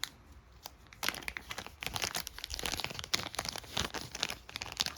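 Plastic bags holding board game cards crinkle and rustle in close, irregular bursts, with quiet pauses between handlings.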